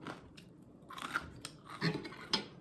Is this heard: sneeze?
no